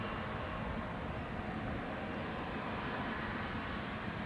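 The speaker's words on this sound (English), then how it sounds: "So, next up is KLM flight 713 to Paramaribo. This is a 777-300ER." A KLM Boeing 777-300ER departing Amsterdam Schiphol, its engines a steady, loud broadband roar with no break across the whole stretch.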